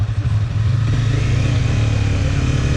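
A Honda CBR250 motorcycle takes off and turns. Its engine drones close and loud, with a steady low rumble and slight revving and no talk.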